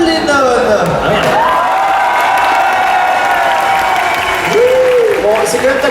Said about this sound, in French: est-ce que vous avez applaudi Bob Lennon